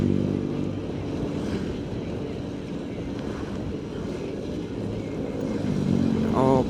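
A Honda Vario scooter rides past on a dark, wet mountain road at night in the rain, its engine drone rising and falling against steady wind and road noise, swelling louder near the end.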